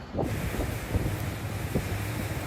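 Strong wind buffets the microphone in a continuous low roar with gusty thumps, and nothing else stands out.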